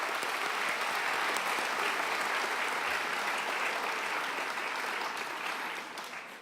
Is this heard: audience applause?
yes